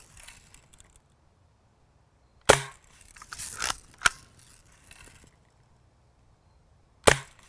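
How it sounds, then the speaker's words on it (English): Lever-action BB guns, a Lil' Duke and a Lil' Sure Shot, fired nearby: three sharp snapping shots, the first and second separated by mechanical lever clacking and rattling, the third following after a quiet pause. "So these are BB guns."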